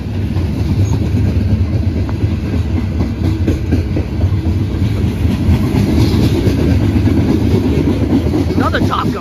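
A Conrail locomotive train rolling past close by, a loud continuous rumble with rapid clickety-clack of wheels over rail joints throughout, with voices faintly underneath.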